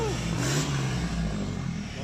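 A Toyota Hilux 4x4 with a full exhaust revs nearby, a deep throaty engine note that rises and holds for a couple of seconds, loud and unbroken.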